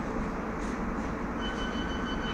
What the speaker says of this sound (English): This is a Metropolitan Line train to Harrow-on-the-Hill.